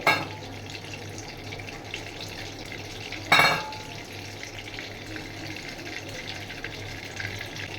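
Butter melts and sizzles in hot oil in a cooking pan for a home-style paneer dish, a soft continuous frying hiss with a couple of brief clinks and stirring noises.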